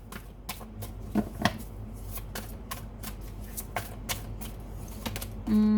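A deck of tarot cards is shuffled by hand, giving quick rhythmic papery riffles and sharp clicks close up. The shuffling ends with a brief steady tone.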